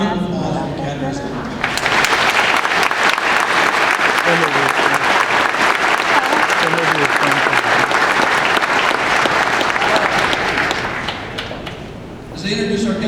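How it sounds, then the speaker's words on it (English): A large crowd at an army basic training graduation ceremony applauds the training cadres: loud, sustained, dense clapping that swells after brief speech, holds steadily, then tapers off as a voice resumes. "Please join me in a round of applause for the cadres."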